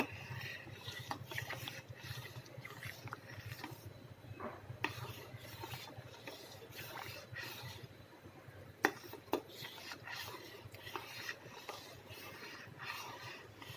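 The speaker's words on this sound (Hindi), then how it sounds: "यहाँ पे हमने ऐड कर दिए हैं काजू और बादाम और उसके साथ ही साथ पिस्ता, और इसको हम पूरे खीर में मिक्स कर देंगे" Cashews, almonds and pistachios stirred into a pot of saffron kheer, with a steady scraping, rubbing spoon texture and soft clinks of utensil against the pan, continuous and close, no voices.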